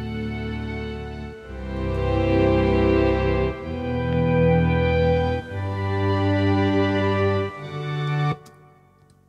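Sustained chords pass through an 8-bit digital hardware effect with the filter rolled off, giving a duller, buzzy digital tone. Four loud held notes change in steps, then the sound fades and ends on a sharp click.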